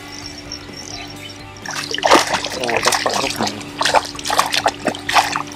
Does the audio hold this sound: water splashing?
yes